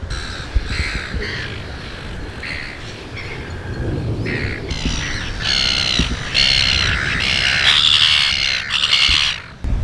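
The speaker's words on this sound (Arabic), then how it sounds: "عدد العصافير الطيور مش مقبول، والغريب فيهم ما بيهربوا منكم، بالعكس ببلشوا يصرخوا" Crowd of birds on Cockatoo Island in Sydney Harbour, loud harsh squawks and screeches in overlapping bursts, growing busier and louder toward the end, close by with no speech.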